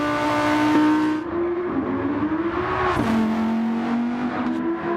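Race cars in Gran Turismo 7, a Lamborghini among them, roar around a track, engines droning loud and steady as the pitch rises, dips and climbs again through turns and shifts.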